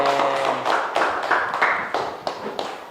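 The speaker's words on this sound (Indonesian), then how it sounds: "Berikan aplaus dulu buat teman-temannya." Students in a university lecture room applaud their classmates: a short burst of brisk, fairly close hand clapping from a modest group, with uneven rhythm that tapers toward the end.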